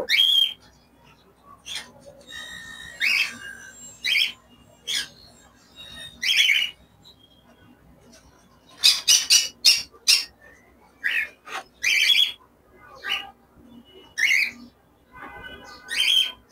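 Two pairs of breeding cockatiels give repeated shrill whistling calls and squawks in short bursts, close by, with quiet gaps between clusters and a denser flurry of calls midway.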